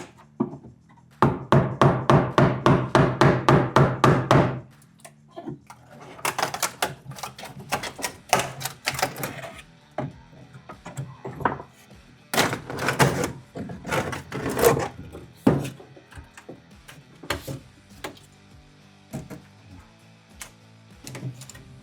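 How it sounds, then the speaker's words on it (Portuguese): A lower wooden panel is pried off old furniture infested by termites and borers, giving a fast rattling run of sharp wooden clicks, then scattered knocks and creaks, close and loud, with no talk. "vou fazer a retirada agora desse tampo aqui inferior para verificar como é que está a situação por baixo dele"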